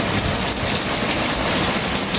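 Heavy rain pours steadily outside a school, with flooded water gushing, a dense, loud, unbroken wash of noise with no pauses.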